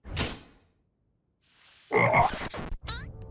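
A cartoon frog lets out a short croak, then after a quiet gap a louder, warbling croak follows with a few brief trailing sounds, close and prominent.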